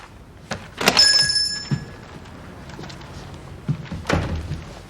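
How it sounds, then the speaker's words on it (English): An indoor door opens with a sharp wooden thunk and a brief rattle, followed by softer footsteps and a second knock-like thud a few seconds later, fairly close and alone. "Doors open."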